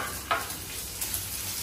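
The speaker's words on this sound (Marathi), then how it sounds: "आता मस्त व्यवस्थित ब्राऊन होईपर्यंत भाजणार." Mixed dry and fresh coconut with masala roasting in a pan for a Maharashtrian crab curry, a soft steady sizzle with a few brief stirring scrapes, close and fairly quiet, with no voices.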